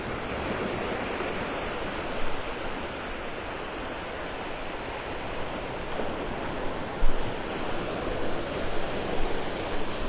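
Waves wash onto the beach at Delnor-Wiggins in North Naples, Florida, a continuous soft roar of surf with gentle swells and breezy hiss, moderately distant and with no voices.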